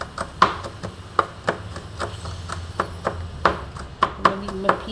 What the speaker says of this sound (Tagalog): Yan, chop lang.